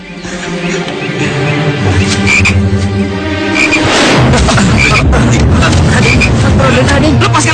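Dense chorus of frogs croaking in a forest setting, loud and continuous, with a sharp burst of noise partway through as the croaking swells and carries on layered over itself.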